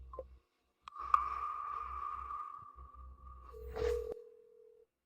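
A telephone line gives a signal tone after a call fails to connect: a steady electronic tone holds for about three seconds, then drops to a lower pitch before cutting off, heard alone.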